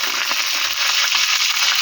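Russian manti dumplings fry in oil with a loud, dense, continuous bubbling hiss heard up close.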